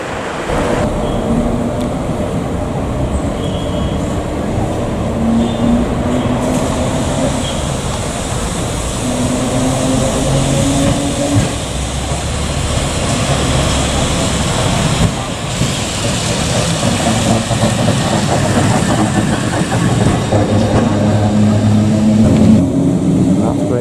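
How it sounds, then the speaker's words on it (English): A train rumbles and rattles steadily across a bridge, metallic squeals and clatter rising and falling over a continuous low roar, with wind noise throughout. "Get the trains going over the bridge."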